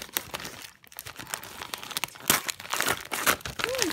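Gift wrapping paper being slid off a present by hand, crisp crinkling and rustling with short tearing-like scrapes, close and continuous without talk.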